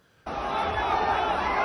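A large crowd of thousands shouts at Makhachkala International Airport, the roar bursting in suddenly and holding as a dense, loud wall of yelling voices.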